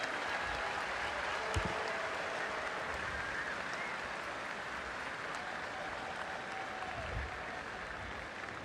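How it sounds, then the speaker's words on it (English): Football fans at a Texas versus Baylor game on their feet applauding a player, a sustained, distant stadium applause with crowd murmur beneath, steady throughout. "now the fans are on their feet, and they'll give Hudson an applause."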